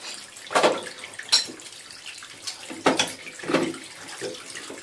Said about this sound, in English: See the water starting to run here now.